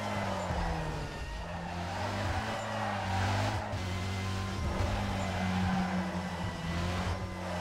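Car engine in the Need For Speed Carbon racing game droning and revving continuously at steady moderate loudness, with a buzzy layered tone and no talk.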